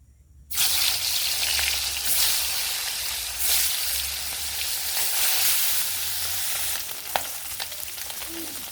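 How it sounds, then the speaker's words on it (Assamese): Singhi fish, rubbed with salt and turmeric, frying in hot mustard oil: a loud, steady sizzle that starts abruptly after a short silence and crackles on without pause, with a sharp pop near the end. "মই মাছখিনি নিমখ হালধি সানি ল'লোঁ আৰু এতিয়া মই মাছখিনি অলপ ফ্ৰাই কৰি ল'ম"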